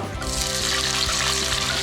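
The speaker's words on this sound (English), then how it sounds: "The splashing is from the water what the tuna has." A brief wet splash and hiss as watery tuna hits a hot pan, loud and close, settling into a watery sizzle.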